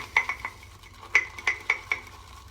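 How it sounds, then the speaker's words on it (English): A boar shaving brush whips soap lather in a bowl, giving a run of short, sharp clinking strokes in quick uneven bursts, close and fairly quiet, with no talking. "I'll finish off my lather in the bowl"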